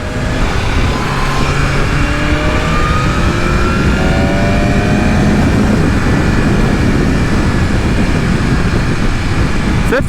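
A modern superbike engine accelerating on the road, a loud continuous engine roar with rising tones as the revs climb, no talking.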